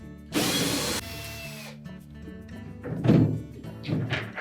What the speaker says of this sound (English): remove two retaining screws that secure the evaporator cover to the back wall